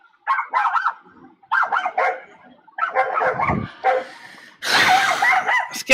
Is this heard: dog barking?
yes